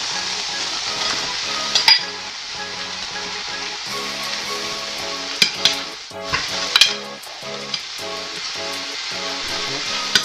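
Pork frying in a pan for crispy sisig lechon kawali, stirred as it cooks: steady close sizzling with a constant hiss, broken by scraping spoon strokes and a few sharp clinks, no talking.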